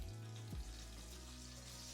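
Potatoes sizzle faintly in hot duck fat, a soft continuous crackling hiss with a brief low thump near the start as they go in.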